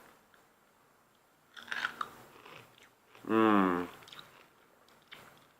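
Crispy roasted pork skin from a cross roast is bitten and chewed close to the mic, with a short crunchy burst followed by a louder wet, crackling chew, and a brief murmured hum of satisfaction.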